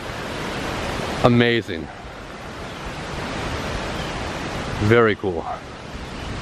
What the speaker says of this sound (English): right back there there's a place that gets much narrower and it is just raging water